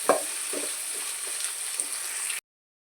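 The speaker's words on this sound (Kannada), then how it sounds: "ನಿಮ್ಗೆ ಈರುಳ್ಳಿ ಬೇಗನೆ ಫ್ರೈ ಆಗುತ್ತೆ" Onions with salt frying in a hot pan, a steady close sizzle with a few soft stirring scrapes, alone with no voices, ending abruptly.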